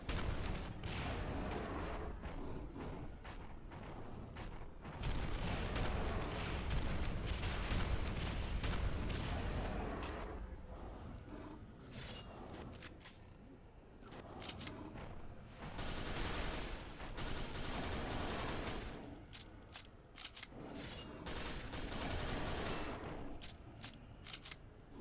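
Rapid, heavy weapon fire from Quake 4 fills the whole stretch, loud bursts and booming blasts crowding together with a few brief lulls, including rocket launcher shots mixed into the chaos.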